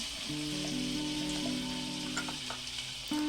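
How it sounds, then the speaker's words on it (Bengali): Oil and a little butter sizzling in a hot wok at the start of a fish stew, a soft continuous hiss over a steady tonal hum in the background. "তেলটাকে খুব বেশি গরম করব না তার মধ্যে দিয়ে দেব হাফ চামচেরও কম বাটার"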